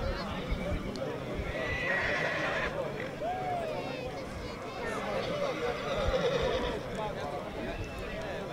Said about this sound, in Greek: Τρουλίτης περνάει μαζί με το άλογο 61. Από τα Χανιά